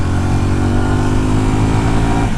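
A Suzuki Gixxer 250 naked motorcycle, 2024 edition, ridden hard with a steady loud engine drone that holds even and close throughout, with no talk over it.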